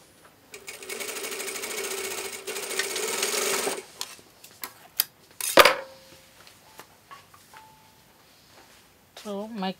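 A sewing machine stitches a quarter-inch seam in one steady, loud run of whirring, then stops, leaving clicks, handling noises and a brief voice.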